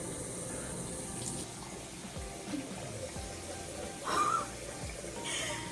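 Tap water runs at a low, steady level through a bathroom skincare routine, with a brief brighter splash or squeak near the end.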